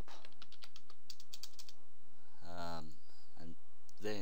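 Quick computer keyboard typing while writing Visual Basic timer code: a close burst of rapid, light key clicks that stops, followed by someone speaking briefly.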